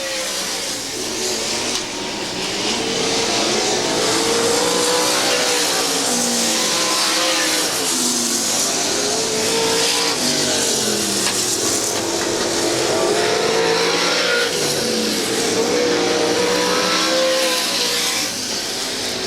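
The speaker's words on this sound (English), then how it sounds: "And coming down for the checkers is Morton." Sprint cars in an OCRS race at Monett Speedway roar continuously at high revs, with engines swelling and fading as the cars pass, loud and steady throughout.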